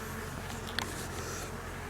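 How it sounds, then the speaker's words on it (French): A swarm of honeybees flying around a tree branch during a first swarming, a faint continuous buzzing hum with one brief louder insect pass close by. "j'attends un petit peu que les abeilles se fixent bien, parce que ça vole un petit peu autour"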